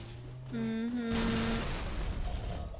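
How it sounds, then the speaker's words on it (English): A broad noisy blast and rumble from an explosion in Halo: MCC starts about halfway through and decays, with tonal game sounds and faint effects around it. "That was quite the explosion."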